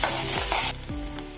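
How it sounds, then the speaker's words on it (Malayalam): Onion and popping mustard seeds fry in coconut oil in a kadai for a bitter gourd stir-fry, giving a loud, dense, continuous sizzle that drops noticeably in level partway through, with no voices. "കടായി വെച്ച് വെളിച്ചെണ്ണ ഒഴിച്ച് ഒരു ടീസ്പൂൺ കടുക് ഇട്ട് കടുക് പൊട്ടി വരുമ്പം സവോള ഒന്ന് ചേർത്ത് കൊടുത്ത്"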